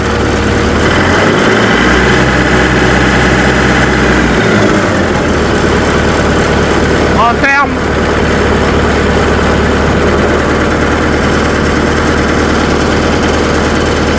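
An engine runs loud and steady throughout, with a brief low rumble early and a short voice speaking over the drone midway.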